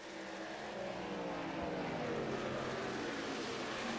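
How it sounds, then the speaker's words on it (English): Racing trucks in an OP Unlimited top 16 round at IRSS roar loudly and continuously on the track, a dense, steady engine din with pitch sweeps as trucks pass close by. "And boy, these trucks are loud."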